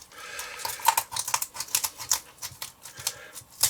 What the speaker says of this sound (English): cut up the side of the backbone. Boy, it's going to be tough with these scissors.